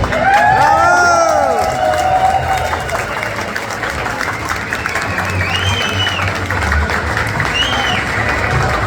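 Loud applause and cheering from an audience at a meeting of Salvadoran legislators with the diaspora in Houston, with whistles and shouts rising over steady clapping throughout.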